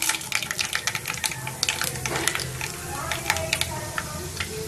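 Chana dal and mustard seeds fry in hot oil for tomato rice, giving a steady close sizzle dotted with sharp pops and crackles throughout.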